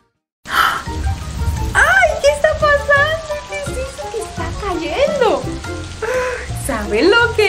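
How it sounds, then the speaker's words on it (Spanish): Steady rain patters and hisses continuously, fairly loud and close, while an animated voice talks and sings over it with rising and falling tones. "¡Sí, es lluvia!"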